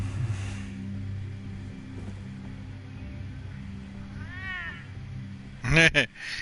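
A cat meows in Batman: The Telltale Series, a short rising-and-falling cry midway through. It plays over a steady, low game soundscape and ends just before a brief burst of louder clatter.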